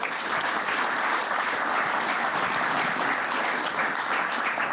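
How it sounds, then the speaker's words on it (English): Conference audience at a manufacturing AI symposium keynote panel claps in a dense, steady wash of applause, moderately near and even throughout, with no voices on top. "Let's give them one more round of applause."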